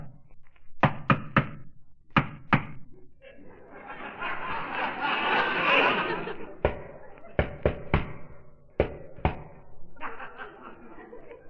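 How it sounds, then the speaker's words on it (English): Knocking on a door in an old radio comedy show, several sharp raps in quick clusters, with a studio audience laughing between them. "Guy told me to knock."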